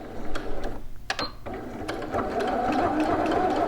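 A sewing machine stitches a trouser leg seam for McCall's 7908 shorts, running in a steady motorized whir after a few brief starts and stops, fairly close and moderately loud.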